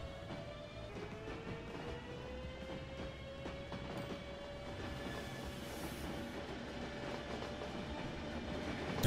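A train running along the track in Transport Fever 2, a steady rolling rumble with faint clatter and a drawn-out wheel squeal, continuous for about nine seconds with no talk.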